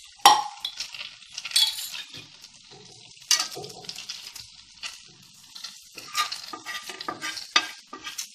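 Bread dipped in egg mixture frying in a pan for a bread snack, soft sizzling punctuated by close scraping and stirring strokes of a spatula at an uneven rhythm, no voices.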